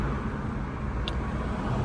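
Car driving in heavy city traffic on the way to Starbucks: a constant low, close engine and road rumble from inside the vehicle, with a brief higher noise near the middle.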